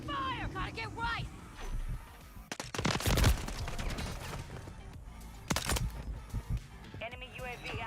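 Gunfire in the Call of Duty video game on Rebirth Island: bursts of automatic fire and single shots crackling amid game sounds, with voices talking over parts of the action.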